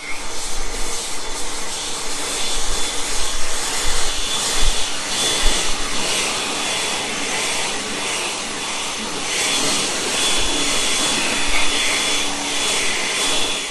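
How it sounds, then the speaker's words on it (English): Kobalt 24-volt battery leaf blower running during a winter lawn cleanup, a loud continuous whirring roar with a high whine that surges and eases slightly, close and without voices. "As you can tell, this Cobalt 24-volt battery blower works pretty good."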